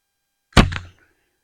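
An arrow from a bow, shot from a tree stand, strikes a deer target with a single sharp thunk and a short muffled rattle, close and alone after silence.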